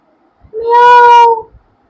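A person imitates a cat's meow as the winning entry in a laughing game: one drawn-out, rising then falling voiced meow, loud and close, about a second long, alone without other talk.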